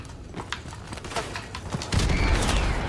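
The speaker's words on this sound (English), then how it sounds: "I'm definitely being shot right now." Scattered gunfire in Call of Duty Modern Warfare Remastered, a series of sharp irregular shots at moderate distance building into a louder, denser rumble of fire toward the end.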